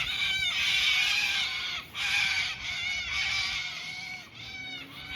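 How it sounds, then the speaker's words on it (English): Loud morning birds call, crows cawing over and over in a harsh, close, near-continuous chorus with brief dips, and no voices. "How loud are those birds, man?"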